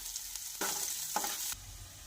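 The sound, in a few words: tempering spices sizzling in oil for bitter gourd fry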